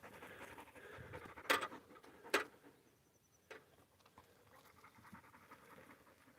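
A dog pants softly and steadily outdoors, one of a pair of black-and-white dogs. Two sharp knocks or scrapes interrupt the quiet, rhythmic breathing, and no one speaks.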